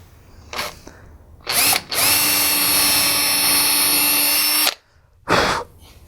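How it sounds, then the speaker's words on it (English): Router fitted with a straight bit plunging into wood to drill out material: short bursts of motor whine, then a long steady high-pitched run of about three seconds, and another brief burst after a pause. "drill out the material in the middle"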